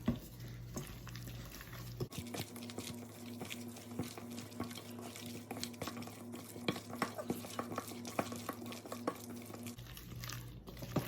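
Shrimp and pork siu mai filling with cornstarch being mixed in a bowl at close range: repeated soft wet slaps and scrapes in an uneven rhythm over a faint steady hum, with no talking.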